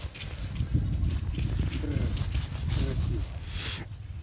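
A draft horse mare's hooves clip-clop in a loose rhythm over a steady low rumble of outdoor noise in the Ternopil region of Ukraine, with a few faint voices nearby.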